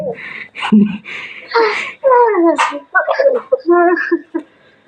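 A person yelps and whines in a high, sing-song voice, imitating a puppy's barks in a series of short bursts.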